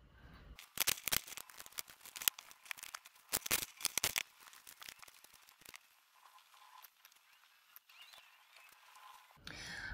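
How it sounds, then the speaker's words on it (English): Tarot-style cards are shuffled up close, a run of quick crisp riffling and snapping bursts followed by softer sliding and rustling of the deck, with no talking. "I'm going to shuffle these cards up and lay the deck out."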